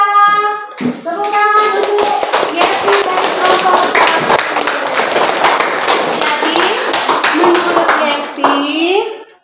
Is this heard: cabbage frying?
no